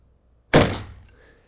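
A single Anschutz 1365 9mm Flobert rifle shot cracks out sharply and loud, then decays into a brief fading tail with no talk.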